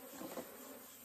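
Bees buzz in a close, steady hum, a dense swarm droning without pause, as a beekeeper moves brood combs into a hive box.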